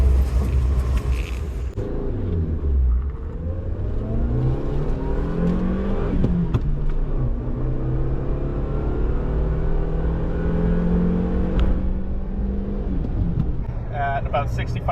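A Suzuki Wagon R Wide MA61S engine pulls hard through the gears, its droning pitch climbing, dropping at each shift, then climbing again toward about 4,000 RPM, loud and close inside the cabin.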